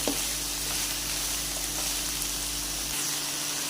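Shredded cabbage roasting in a hot pan for chicken Chinese rolls, a steady, even sizzle with a low constant hum under it that stops near the end.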